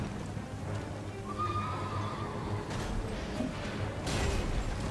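A resummoned horse in the video game Elden Ring gives a single drawn-out whinny over a steady low ambient bed, mid-distance and fairly quiet, with a few faint hoof-like clops.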